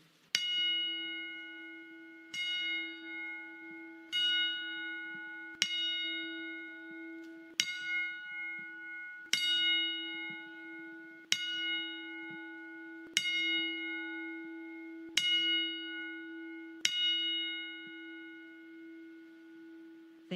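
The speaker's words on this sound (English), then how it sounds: "pay our respects with the 10-bell salute" A ten-bell salute rings out as a single resonant bell struck ten times at a slow, steady pace, each clear metallic strike ringing on and overlapping the next, distinct and alone with no voices.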